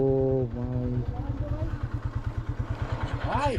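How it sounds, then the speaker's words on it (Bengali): A motorcycle climbs uphill off-road, its engine thudding in a fast, steady chug close by, with a voice talking over the start. "এ ভাই কই উঠছি বাইক নিয়ে"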